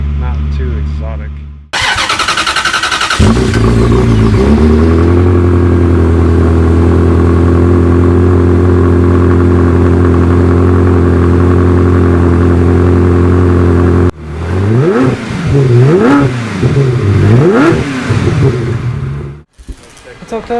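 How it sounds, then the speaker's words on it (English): Ferrari 360 Modena V8 with a Tubi Style exhaust fires up loudly, settles into a deep, steady idle, then revs through several rising and falling blips before cutting off, heard close by. "Sounds a little bit muscle car to me"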